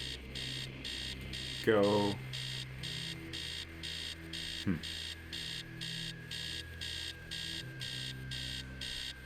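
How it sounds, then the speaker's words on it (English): A persistent electronic alarm clock in the video game Stories Untold sounds in a regular pulsing pattern of rapid beeps, steady and insistent throughout, with a brief spoken word and a couple of short thuds over it. "You can't see any alarm, but you can barely think with that noise."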